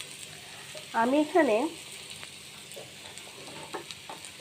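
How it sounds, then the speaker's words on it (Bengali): Food fries in a pan with a continuous close sizzle and occasional stirring clinks, while a voice speaks briefly near the start. "দেখুন হালকা ভাজা ভাজা হয়ে গেছে।"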